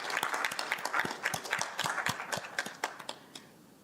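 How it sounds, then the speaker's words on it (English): Attendees at an in-person community town hall meeting at a Tamil community centre give a round of applause, a small group clapping in quick uneven bursts that thin out and fade after a few seconds. "I would love to give them a round of applause for all the work that they have done"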